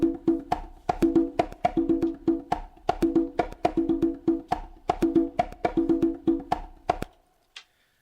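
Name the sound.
conga drum pattern played on Akai MPC X SE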